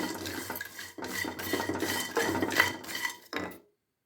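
Whole cloves and cardamom pods go into a hot pan for roasting, giving a steady scraping, clinking rattle as a spoon stirs them against the metal, with brief pauses before the last stir stops abruptly.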